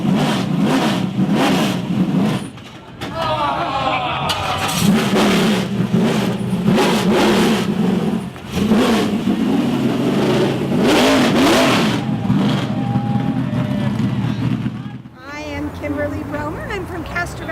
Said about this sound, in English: This is a 1908 Cadillac. It is a 1-cylinder